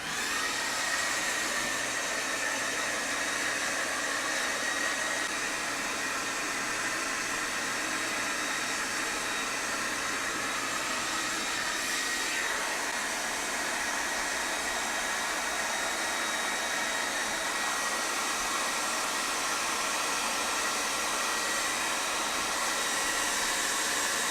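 Steady, loud whoosh of a hair dryer blow-drying hair in a salon, with a slight shift in tone midway, no voices present.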